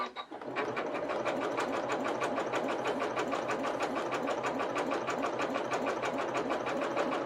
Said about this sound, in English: we're just going to do a plain straight satin stitch on this machine